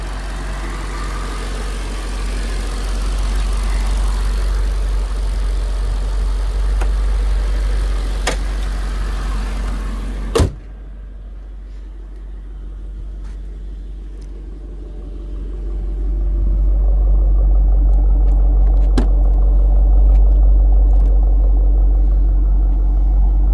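A custom 700-horsepower Mercedes-Benz SL55 AMG engine idles steadily with a low, smooth rumble throughout, a brief click partway, and the hum swelling slightly louder toward the end.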